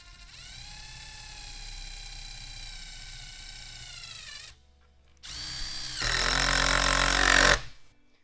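An impact driver spins up with a steady whine and then breaks into loud rapid hammering as it drives a screw into scrap plywood, close-up and harsh, with short pauses between bursts.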